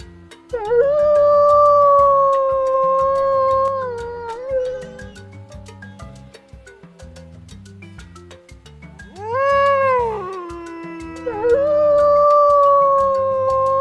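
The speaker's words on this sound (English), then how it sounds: "Wolf." A wolf howls in long, sustained rising and falling tones, two drawn-out howls separated by a brief pause, loud and clear with no talking.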